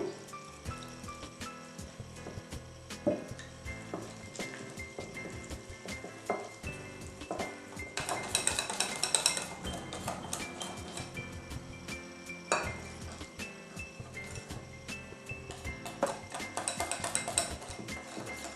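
Yogurt and water batter for khaman being mixed in a bowl, with repeated clinks and scrapes of a utensil against the bowl and soft wet stirring, close and fairly quiet, busier in bursts, with no talking.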